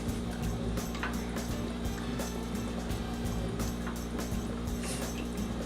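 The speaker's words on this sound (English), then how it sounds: "So I'm gonna finish whisking in the cheeses" Whisking cheeses into a vegan queso dip: a steady run of quick ticks and soft scraping from the whisk against the pot, close and fairly quiet over a constant low hum, with no talking.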